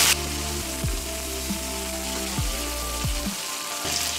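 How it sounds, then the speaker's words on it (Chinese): Rice-paddy eel stir-fried in oil in a wok, giving a steady close sizzle and crackle under background music with sliding tones, with no voices. "这个要一直炒，不然的话等一下会烧掉的"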